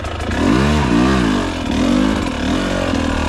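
A KTM 300 TBI two-stroke motorcycle riding in second gear, its engine loud and close, rising and falling in pitch as the throttle opens and eases, steady drone throughout with no voices.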